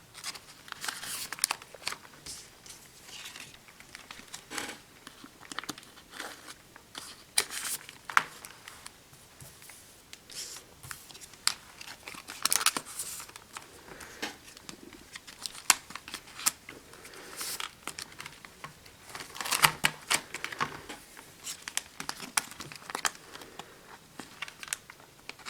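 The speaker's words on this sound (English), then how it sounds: "You just take them and slot them into the top." Plastic Kamen Rider Build toy cards are slid one after another into a plastic binder, giving scattered crisp rustles, flicks and clicks at close range in an irregular rhythm, with no talk.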